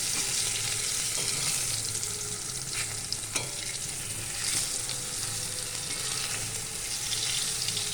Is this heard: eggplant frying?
yes